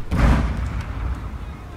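Artillery bombarding a castle in a video game: a deep, heavy boom rolls out near the start and fades into a low rumble, with talking over it.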